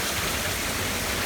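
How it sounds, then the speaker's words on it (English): Hail falling in a severe thunderstorm with gusty winds, a dense, steady hiss and patter of ice on surfaces, loud and continuous from start to end, with no voices. "We got hail, guys."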